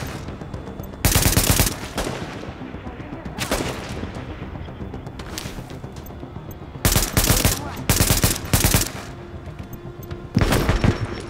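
Loud bursts of rapid automatic gunfire from the video game Tom Clancy's The Division come in several separate volleys, with steady background noise between them.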